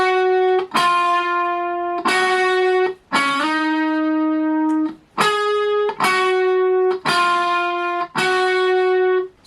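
Distorted electric guitar plays a repeating riff from a dropout section, with sustained harmonic-rich notes broken by short gaps and re-attacks at a steady rhythm, loud and close with no talking.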